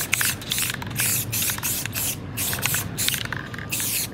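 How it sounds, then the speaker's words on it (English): Black spray paint hisses from an aerosol can onto an epoxy sample board in a series of short bursts with brief pauses, close and loud, with no one talking. "And we're gonna spray randomly throughout the board, kind of in a line pattern."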